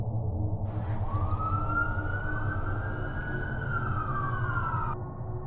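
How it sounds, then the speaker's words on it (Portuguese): A police siren wails steadily over a low background rumble, rising and holding its tone as it draws closer. "eu ouvi as sirenes da polícia se aproximando cada vez mais"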